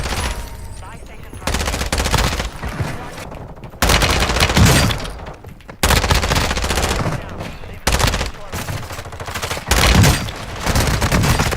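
Rapid bursts of gunfire in Call of Duty Warzone 2, loud and close, coming in several dense volleys separated by short pauses, with faint voices mixed in.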